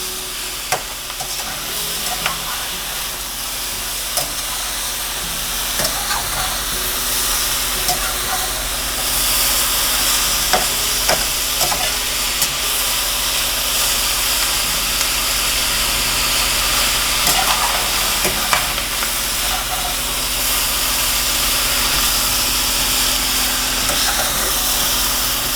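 Sausages and apple slices fry in a pan with a steady loud sizzle and hiss, close up, while scattered light clicks and scrapes come from stirring, with no talk.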